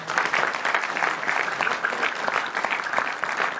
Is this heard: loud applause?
yes